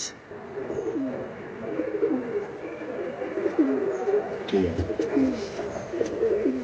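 Pigeons, pure Andhra and Ablook Dobuz breeds, cooing in a repeated rolling rhythm close by, soft and steady with faint background noise and no speech over them.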